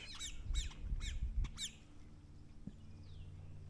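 A crow gives four harsh, nasal caws in quick succession, fairly close and loud, over faint outdoor background noise, followed by a quieter stretch.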